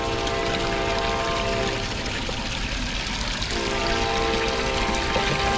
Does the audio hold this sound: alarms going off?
no